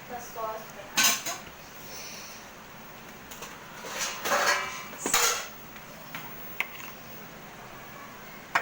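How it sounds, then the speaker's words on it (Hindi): Mayo and ketchup sauce spooned over chicken rice, heard as a few clinks and scrapes of a spoon against a dish or pot, with quiet handling noise between them. "अब हम डालेंगे अपना जो हमने मायो और केचप का सॉस बनाया था"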